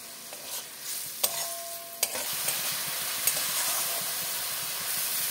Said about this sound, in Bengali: মশলা কষাবো। দিলাম 1 চামচ কাঁচা লঙ্কা বাটা, দিয়ে দিলাম কেটে রাখা টমেটো